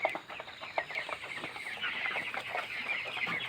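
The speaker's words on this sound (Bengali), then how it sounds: "তো এই ছিল আর কি আজকে 18 দিন ব্রয়লার মুরগি।" Eighteen-day-old broiler chickens cluck and chatter continuously on a poultry farm, a dense flock noise that stays fairly steady with many overlapping calls and no talking.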